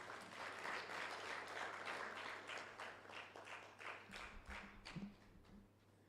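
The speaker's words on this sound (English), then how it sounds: "We give Prof another round of applause" Applause for a professor at the close of a talk during an online education and training webinar, a thin, steady patter of clapping at low level with a faint low hum underneath, some louder thumps near the end.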